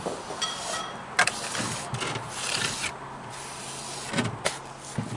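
A trowel spreads loose mortar against a house front for stonework, giving continuous close scraping and rubbing strokes with a few sharper knocks.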